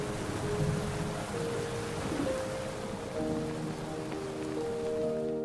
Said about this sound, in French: quand il pleut, l'eau monte tout de suite et c'est impossible de traverser